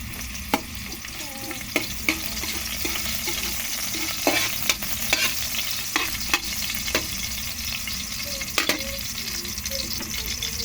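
Steady sizzling of garlic frying in a hot pan for chicken adobo, with occasional clinks and scrapes of stirring over the constant crackle.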